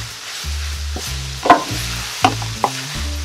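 Beef stir fry sizzling in a hot pan, a loud, steady fry broken by several sharp crackles and bursts as the food is stirred and moved, close up with no voices.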